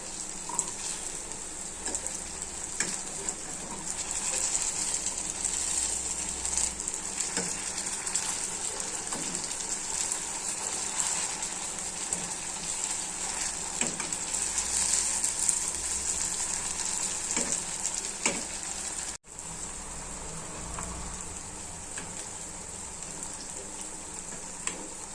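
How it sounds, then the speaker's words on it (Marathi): Wheat flour and potato cook in a hot pan for a long stretch of steady frying sizzle, with scattered faint scrapes and stirring sounds, up close and with no talk. "गव्हाचं पीठ छान असं ब्राऊन होतपर्यंत शिजून घ्यायची डिश."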